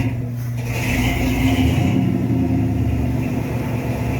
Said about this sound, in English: So I'm just going to start it at idle here and see what happens.